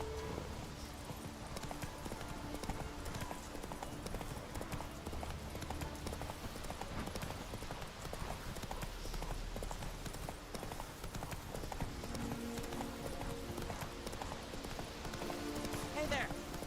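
A horse's hooves clip-clop at a steady pace in the video game The Witcher 3, a continuous rhythmic clatter with game ambience and someone talking over it.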